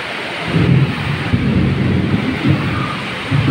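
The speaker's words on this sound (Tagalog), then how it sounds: "Heavy rain na naman to." Heavy rain pours in a dense, steady roar, with low thunder rumbling beneath it. The downpour is loud and close, and no voices are heard.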